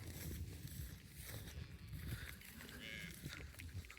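Faint, low mooing of cattle somewhere outdoors, quiet and somewhat distant against a soft background rumble.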